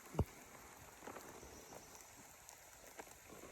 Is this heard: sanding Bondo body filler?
no